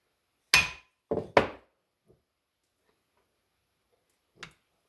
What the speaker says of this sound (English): Let me give it a quick whack and see if that works